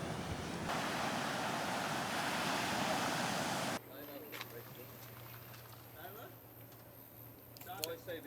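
Broad, steady ocean surf wash rolls loud for the first few seconds, then drops to a quieter background with wind buffeting and faint scattered sounds.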